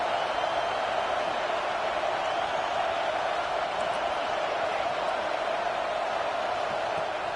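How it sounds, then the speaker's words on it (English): A stadium crowd in a college football video game roars as one steady wall of noise that stays level from start to finish. "The roar of the crowd trying to fuel this defense to keep them pinned in their own end."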